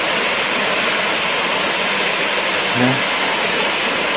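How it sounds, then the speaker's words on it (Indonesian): Waterfall Banyu Wana Amertha, second fall viewed from above: a loud, dense, steady rush of falling water filling the whole clip, with a brief spoken word near the end. "Nah, ini kita bisa lihat di sini dari atas air terjun nomor 2."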